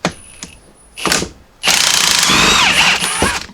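A ratchet loosening an 18 mm strut mount nut on a 2016-2021 Jeep Grand Cherokee, with a few short clicks at first, then a loud sustained run of rapid ratcheting close up, no talking.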